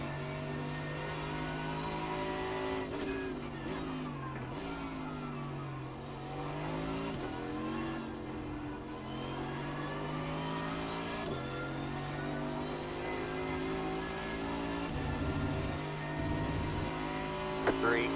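A race car engine in a sim racing video game, revving and shifting through corners with wavering pitch, brief tire squeal and downshift blips, steady and fairly quiet under someone talking.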